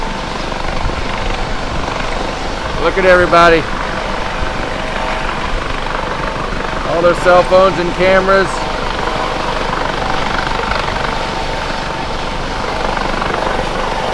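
Coast Guard helicopter rotors thumping overhead at sea near a cruise ship on a windy day, a loud steady broadband wash throughout with people talking briefly above it.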